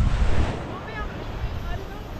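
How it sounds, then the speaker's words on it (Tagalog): Strong wind at sea buffets the microphone in a steady rumbling roar, with waves and water rushing around a small boat throughout; a voice speaks briefly over the noise near the start. "Malakas ang hangin oh."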